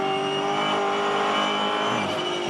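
Onboard engine of a Supercars Championship race car pushing hard, a loud steady high-revving drone with dense harmonics filling the whole stretch, with a slight shift in pitch near the end as the car runs wide toward a gravel trap.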